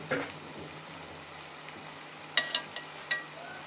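Fenugreek leaf pakoras fry in hot oil with a soft, steady sizzle, broken by a few sharp crackles and pops near the end, close and fairly quiet, with no voices.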